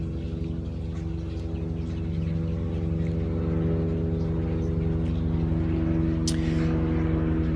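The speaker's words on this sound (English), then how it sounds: "One of the great things about living in Burbank here is the news helicopters are like always overhead." A news helicopter flies overhead in Burbank with a steady droning rotor hum that grows slightly louder, continuous throughout and heard from a distance.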